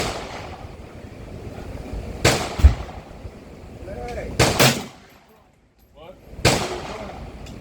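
An SKS rifle fires several sharp, loud shots at an outdoor range, spaced a second or more apart with echoing tails, while people chat nearby between the shots.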